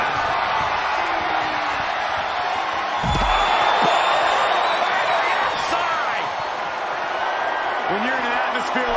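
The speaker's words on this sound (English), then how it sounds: "when you can't hear yourself think because the crowd's so loud" A packed WWE arena crowd at a 2024 iron man match roars steadily and loudly throughout, a dense wall of cheering with a commentator's voice running over it.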